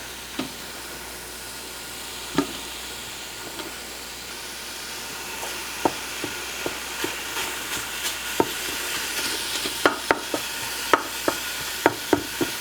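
Sausage browns in a soup pot with a steady low sizzle and soft hiss, broken by faint scattered ticks and pops that grow more frequent toward the end.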